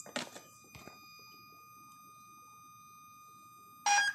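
A Wltoys 10428 RC truck receiver that has a receiving fault gives steady electronic tones while it is plugged in, with a brief clatter at the start and a louder burst near the end.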